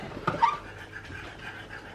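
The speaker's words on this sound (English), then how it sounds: "Can you hear Rocky panting away" Soft, rapid panting from a dog close by, steady and quiet under a faint background hum.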